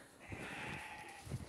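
A sheep in a livestock barn in Russia gives one faint, drawn-out bleat against a quiet indoor background.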